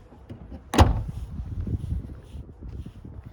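The trunk lid of a 2020 Volkswagen Arteon shuts with a single sharp thud close by, followed by faint rustling and handling noise in a quiet setting.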